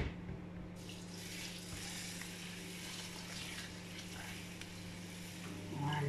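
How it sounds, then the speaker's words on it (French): Water pours into a cooking pot in a steady hollow splashing stream while lentils and sausages are being prepared, close by and moderately loud, with a faint hum underneath and no talking. "Je vais mettre mes 1 litre d'eau."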